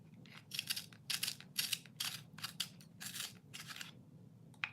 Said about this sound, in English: let's sharpen up the pencil